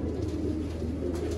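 Ferozpuri and Sialkoti pigeons coo in a low, throaty, continuous murmur close by, with no voices over it.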